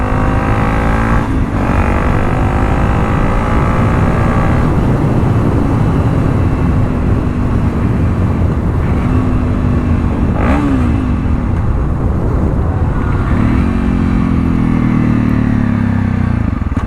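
Inside an HJC RPHA 90S modular helmet with the visor closed, a motorcycle ride produces a loud, constant roar of wind and engine, with the engine tone rising and falling through gear changes.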